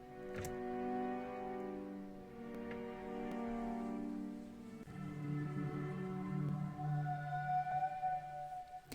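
A Birdsong cello plays without a vocal doubler effect, giving dry sustained tones rich in harmonics that move through a slow melodic line, fairly soft and with nothing else heard.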